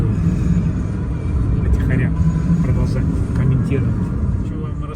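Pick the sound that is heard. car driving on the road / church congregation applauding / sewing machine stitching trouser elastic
car driving on the road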